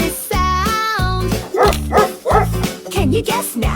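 A dog barks several times in an animal-sounds song for children, a series of short, loud, close woofs with bright, tonal yips, separated by brief gaps.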